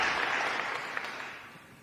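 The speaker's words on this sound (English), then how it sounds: "Let's give him a huge round of applause." Crowd applause at an outdoor groundbreaking announcement for a New York advanced technology project, a full burst of clapping that starts strong and gradually tapers off, with a few distinct claps standing out.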